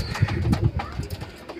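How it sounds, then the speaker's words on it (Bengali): Black pigeons of a Mechhua-type breed coo in low, throaty, repeated burbles, close by and fairly loud over a brief stretch. "এটা হচ্ছে মেছুয়া টাইপের কালো পায়রা"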